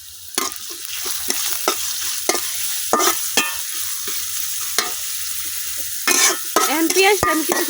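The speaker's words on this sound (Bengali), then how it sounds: "আমার পেঁয়াজগুলো কিন্তু আমি হালকা লাল করে বাজা নিছি" Onions and green chillies frying in hot oil in a wok, a dense crackling sizzle punctuated by repeated sharp scrapes and stirs of a spatula, close and loud, ending with a brief clatter.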